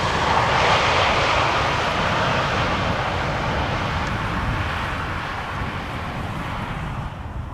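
An Air Arabia airliner arriving at Amsterdam Schiphol from Nador roars steadily and fairly loud, the broad engine noise fading slightly over several seconds.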